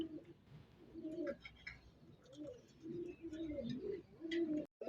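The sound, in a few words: pigeon cooing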